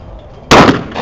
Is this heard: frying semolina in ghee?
no